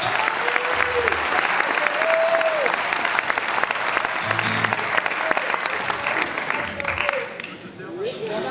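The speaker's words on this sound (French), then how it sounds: "c'est quand même lui qu'on applaudit bien fort ce soir." An audience at an evening concert in La Rochelle applauds loudly, a dense, sustained wash of clapping that holds steady before tapering off near the end, with a voice faintly underneath.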